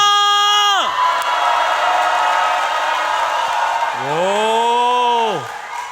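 A church congregation at a worship revival shouts and cheers together, a loud, sustained roar of many voices lasting several seconds, bracketed by a rising and falling synthesized tone at the start and end.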